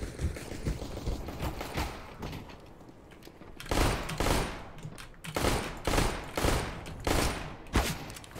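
Gunfire in a first-person shooter game, with a rattle of shots early on, then several louder separate bursts and single shots against a steady background of game noise, with no talk.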